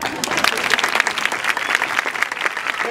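Crowd at an outdoor street theatre circus show in Bilbao claps loudly, with dense, crisp handclaps close by and a few voices mixed in beneath the applause.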